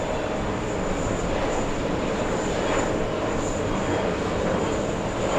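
Loud, steady roar of a jet airliner near JFK airport, a broad continuous engine rumble holding level through the whole stretch with no voices over it.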